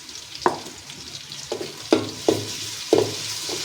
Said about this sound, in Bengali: এখন আমরা এটা ভাজবো।